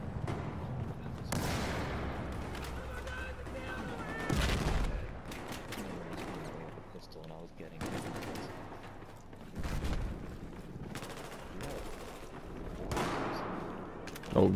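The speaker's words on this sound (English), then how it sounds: "Who's shooting at us?" Video game gunfire in a firefight, with bursts of shots and heavy booming blasts recurring throughout at steady loudness, and brief talk in between.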